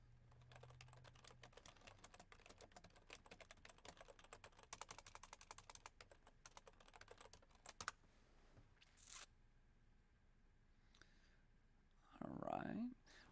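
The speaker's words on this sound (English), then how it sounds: "Grant can't hear me. I'm typing to him." Quiet, rapid keyboard typing clatters for several seconds, then stops; a few brief scrapes and a short voice sound follow near the end.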